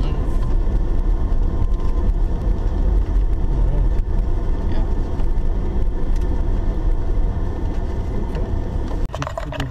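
Car driving on a housing development site tour, with a steady loud rumble of the engine and road noise throughout from inside the vehicle and a brief shift near the end, no talking.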